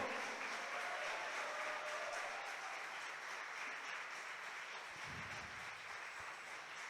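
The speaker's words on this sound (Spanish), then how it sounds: "yo quiero que hoy le des un aplauso a la presencia de Dios" Applause from a church congregation during a Spanish-language worship service, a steady wash of clapping and cheering heard from a distance at low level, holding evenly throughout.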